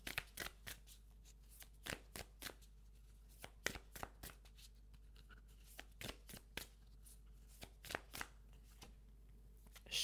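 Oracle cards are shuffled close up and quietly, in a string of crisp riffling slaps and flicks coming in uneven bursts over near silence.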